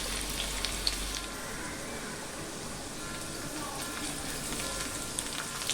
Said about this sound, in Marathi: तेल घालून घेऊया, लसूण घालूया, 5-6 पाकळ्या लसूण घातलेले आहेत।